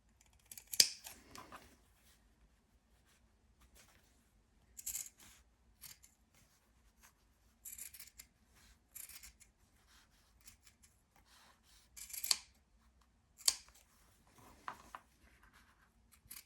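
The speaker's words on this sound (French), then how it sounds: "Les ciseaux sont trop gros." Scissors snip paper during a simple craft, with short, quiet cuts spaced irregularly across a near-silent room, some clustered in quick pairs.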